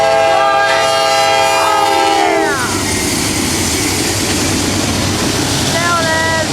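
A Norfolk Southern northbound short grain freight train passes the Cooke Road crossing in Columbus, Ohio, sounding loud horn blasts before its cars roll by in a steady, close roar, with the horn returning briefly near the end.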